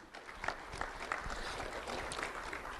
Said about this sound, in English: Round of applause for Lily Infantado